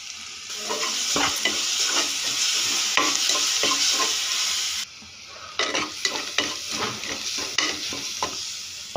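Curry leaves hitting hot oil while a spicy Telugu-style peethalu (crab) curry is cooked, giving a loud steady sizzle, then a sharper crackle with stirring scrapes after a brief dip, no talking.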